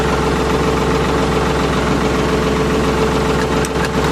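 A Ford 4110 tractor engine runs steadily at idle, with a loud, continuous low rumble and a knocking, vibrating diesel character throughout.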